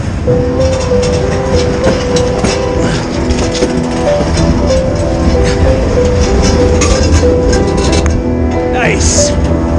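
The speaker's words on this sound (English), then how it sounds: "another train's coming" A heavy freight train rolls by continuously and close on winter tracks, rumbling and clattering with squealing metal tones, while a person talks over it.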